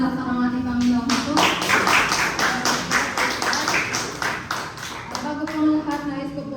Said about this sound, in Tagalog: malakas na palakpak ang ating Panginoon po.